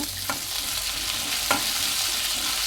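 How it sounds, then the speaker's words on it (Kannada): Thickly sliced onions fry in hot oil with cumin, a steady loud sizzle throughout, broken by two brief scrapes of a spoon stirring the pan. "ಈಗ 4 ಈರುಳ್ಳಿ ದಪ್ಪ ಹಚ್ಕೊಂಡಿರೋದು ಹಾಕ್ಕೊತೀನಿ. 1 ಸ್ಪೂನ್ ಸಹಾಯದಿಂದ ಮಿಕ್ಸ್ ಮಾಡ್ಕೊಳ್ಳಿ. ಚೆನ್ನಾಗಿ ಫ್ರೈ ಮಾಡ್ಕೊಳ್ಳಿ."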